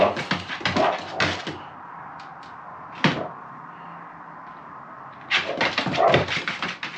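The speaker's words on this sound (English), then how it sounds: "my dogs are going crazy upstairs" Dogs barking and whimpering in an upstairs room of a house, with several bursts of high yips and barks, a lone bark in the middle, then a cluster of barks and whines, heard a bit muffled and at a distance.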